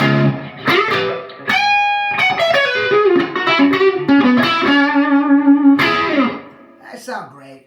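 A Fender Stratocaster electric guitar with Custom Shop vintage noiseless pickups plays loud, ringing chords and single notes through distortion and effects, with phrases sustaining and then breaking off near the end.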